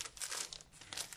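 A packaged set of glitter paper sheets, five colours and twenty sheets in all, crinkles and rustles in a quiet room, soft, close, irregular bursts of crackling plastic and paper with no talk.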